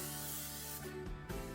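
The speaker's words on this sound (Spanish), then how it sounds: "vamos a poner un poquito de spray en aerosol en nuestro" Cooking spray hisses from an aerosol can into a baking mold while a date, nut and cream cheese pie is prepared; one soft, steady spray burst, faint, with a low background hum.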